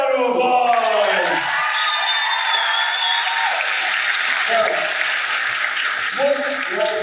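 A festival panel audience applauds with cheering and whoops, a loud dense burst of clapping that holds steady and then thins, while people talk over it.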